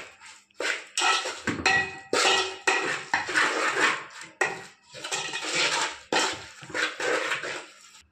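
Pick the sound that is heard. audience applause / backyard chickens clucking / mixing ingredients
mixing ingredients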